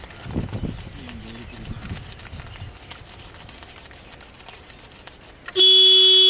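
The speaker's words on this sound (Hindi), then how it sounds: "अब ये गेट को बंद करते ही फिर चल देगी, ये पहले हॉर्न देगी।" Quiet clatter and faint background noise from a model metro train, then a loud, sustained electronic horn tone suddenly blares at the end, close and steady.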